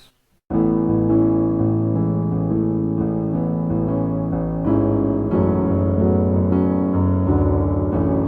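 Piano chords of a song played steadily through the song progression, sustained and full, changing every beat or two with no talking.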